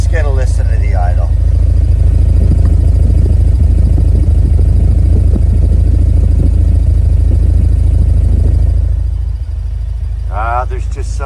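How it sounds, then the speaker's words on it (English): A 1991 Alfa Romeo Spider Veloce's 2-liter inline four idles loud and close through an aftermarket muffler, a steady, throbbing rumble, with someone speaking briefly at the start and end. "listen to the 2-liter inline 4. Again, good for a factory rating of 120 horsepower and 100 pound-feet of torque. Aftermarket muffler here. Let's get a listen to the idle."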